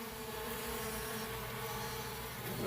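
Angry honey bees swarm and buzz around their queen in a dense, continuous drone, close and steady throughout, with no voices.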